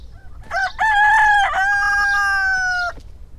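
A rooster in the video game Death to Spies crows once, with a loud, close cock-a-doodle-doo that has a short rising start and a long held tone, over a faint low background hum.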